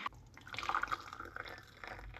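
Water poured into a large glass indoors, a short close trickle of liquid filling the glass over about two seconds, fairly quiet with no talking.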